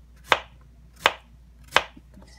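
A gourd-like vegetable is cut open with three sharp, evenly spaced knife chops on a board, close and distinct, with quiet room background between them.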